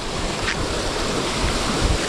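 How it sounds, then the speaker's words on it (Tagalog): Large sea waves rolling and breaking along a shore in rough conditions, a steady loud roar of surf with wind noise on the microphone and a few heavier swells surging near the end. "Malalaki, mas malalaki dito yung alon."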